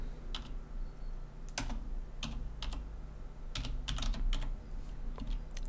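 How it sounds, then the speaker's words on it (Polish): A computer keyboard is typed on while a command is entered, sparse close key clicks in small clusters over a low steady room hum. "Wpisuję w tym celu komendę surf tab 1"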